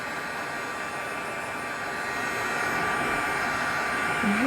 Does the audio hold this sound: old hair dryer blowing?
yes